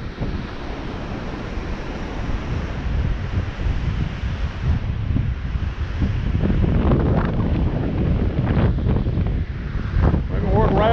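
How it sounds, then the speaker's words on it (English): Strong wind buffets the microphone outdoors near the sea, a continuous heavy roar with surf-like rumble that holds steady throughout, loud and close. "It's really windy."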